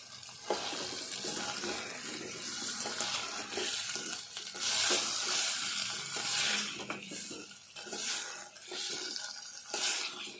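Potato pieces for aloo biryani frying in a pan, a moderate sizzle with intermittent stirring and clattering, rising and falling in bursts.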